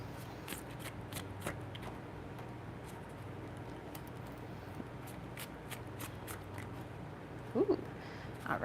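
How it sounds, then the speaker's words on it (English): A deck of tarot cards is shuffled close by in quiet surroundings, with repeated soft riffling flutters and light card snaps spread across the stretch and a few louder handling rustles near the end, with no voices. "so let's pull some cards here"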